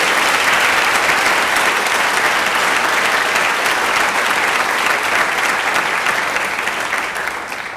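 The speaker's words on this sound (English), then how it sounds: "Please join me in thanking them with a round of applause." A school honor society induction ceremony audience gives a full, loud round of applause, dense and sustained throughout before tapering off at the end.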